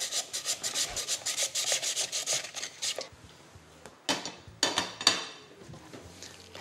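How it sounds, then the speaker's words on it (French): Potatoes sliced very thin into matchsticks on a mandoline: a quick run of even, rhythmic rasping strokes, close and crisp, then a few slower, uneven scrapes and knocks. "ce sont des petites pommes qui sont taillées si possible à la mandoline, un petit peu comme des pommes allumettes"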